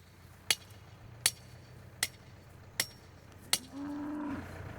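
Cows on a livestock farm: five sharp, evenly spaced knocks ring out, then a single short, low moo follows, all fairly faint in a quiet setting.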